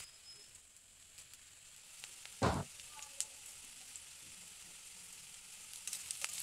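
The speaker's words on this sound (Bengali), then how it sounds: "জিরা ফোড়ন দিব।" Cumin seeds dropped into hot oil with a bay leaf for tempering a papaya dal give a short, sharp sizzle burst, then a faint steady hiss continues quietly with no talking.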